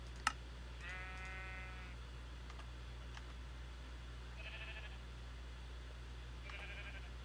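Sheep in a video game bleat in three short synthetic calls spaced a few seconds apart, clear against a quiet steady background hum.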